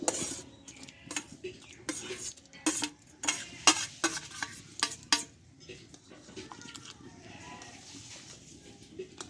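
Rice being stirred in boiling milk for coconut payesh, a spoon repeatedly scraping and clinking against the pot in quick bursts, then a softer bubbling simmer, close with no speech.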